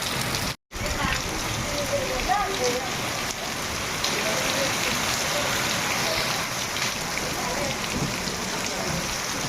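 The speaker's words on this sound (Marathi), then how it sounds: "असा पाऊस पडतोय मे महिन्यामध्ये" Dense, steady downpour of unseasonal May rain in Konkan drumming on surfaces, with a brief dropout near the start and faint voices underneath.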